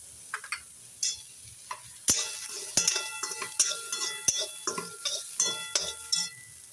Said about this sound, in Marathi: पाहू शकता किती छान असा कांदा भाजत आहे